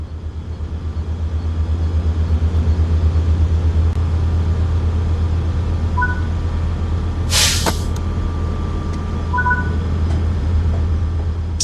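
A steady diesel drone from an EMD F125 Spirit locomotive idling in Train Sim World 4, a constant low throb running throughout, with a sharp hiss of air release partway through and a few faint electronic chimes.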